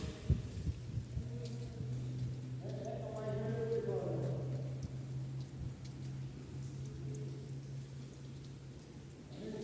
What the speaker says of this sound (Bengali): ওডে পানি যাইতেছে না, এত বৃষ্টি হচ্ছে